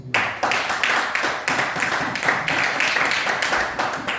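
A church congregation bursts into sustained applause and clapping during a preaching service, dense and continuous from start to finish, loud and close, with no talking over it.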